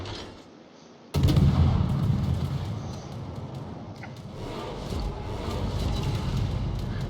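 Naval guns fire shells in the World of Warships video game, starting with a sudden loud boom after a quiet second and then a long rumbling roar with scattered distant cracks and impacts.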